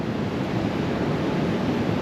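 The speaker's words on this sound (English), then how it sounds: "We are just above the waves and the beach once again." Ocean waves break below sheer sea cliffs on Rurutu in the Austral Islands, a steady broad rushing roar of surf heard from above, loud and continuous, mixed with wind buffeting the microphone.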